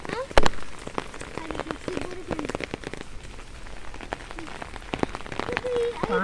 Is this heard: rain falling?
yes